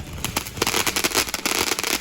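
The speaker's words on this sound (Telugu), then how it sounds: "ఆరుష్కి సర్ప్రైజింగ్గా ఉండాలని చెప్పి ఇలా మా బ్యాక్ యార్డ్లో క్రాకర్స్ బర్న్ చేసాము" Diwali firecrackers burn in a backyard, making a quick run of sharp crackles and small pops that come close together and sound fairly near, with no talking.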